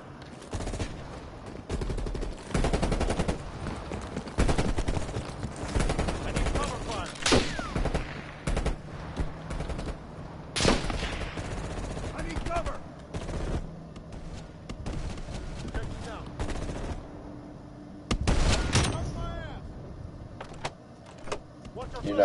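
Gunfire in the Call of Duty Cold War campaign: repeated loud bursts and single cracks, some close and some farther off, with a voice and in-game chatter mixed through the fighting.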